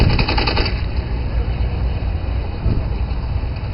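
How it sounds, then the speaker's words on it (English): Simulated gunfire crackles in rapid bursts during a mock dogfight at an air show, set against a loud, steady roar of aircraft engines outdoors, with no clear talk. "we have John Day shooting down his friend Bob"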